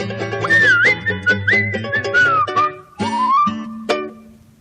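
Melodic whistling, a lively tune with sliding notes over a steady musical backing, close and clear.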